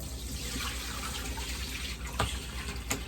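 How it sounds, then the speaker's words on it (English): Rice being rinsed in a pot under a running kitchen faucet, a steady close rush of water with a few sharper splashes and clinks near the end, no talking. "I'm just trying to really rinse this rice because it's still cloudy"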